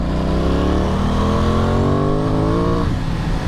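An Aprilia Tuono 660 motorcycle engine revs steadily, its pitch climbing smoothly for a few seconds before dropping off, loud and close with wind noise underneath.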